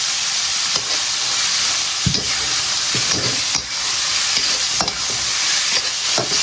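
Mapo tofu sizzles in a hot wok as dark soy sauce goes in and is stir-fried, a loud constant hiss broken by scraping spatula strokes every second or so.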